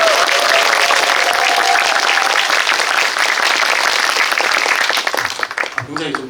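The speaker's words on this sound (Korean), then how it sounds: "다시 한번 박수!" Audience at a film Q&A screening event giving loud, dense, sustained applause that fills the room and then thins out and fades near the end as a voice begins.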